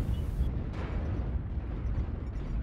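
AC-20 autocannon in a MechWarrior game from a Hunchback HBK-4P mech, a heavy booming blast with a low rumbling roar that sustains loudly for the whole short stretch.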